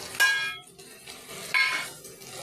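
Spices are stirred into cauliflower curry in a pan, two bursts of scraping and sizzling with metallic utensil contact, close and fairly loud, separated by a short quieter pause.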